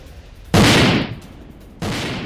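Explosions from a Ukrainian drone attack on Crimea: two sudden, loud booming blasts about a second apart, each decaying into a rumbling tail.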